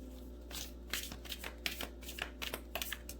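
Tarot cards being shuffled by hand: a quick run of soft, papery riffles and flicks, close and fairly quiet, with no voices.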